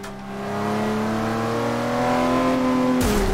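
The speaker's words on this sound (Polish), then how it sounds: "Tutaj w tunelach bardzo ładnie słychać samochody." Lamborghini Aventador engine in the racing game Forza Horizon 2, a loud sustained high-revving whine that climbs steadily in pitch before cutting off abruptly near the end.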